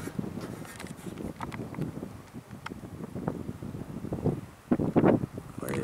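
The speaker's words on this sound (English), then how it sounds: "I'm trying to block the wind." Gusty wind buffeting the microphone on a hiking trail in a desert preserve, low rumbling bursts that swell and fade, strongest near the end, with faint rustling between gusts.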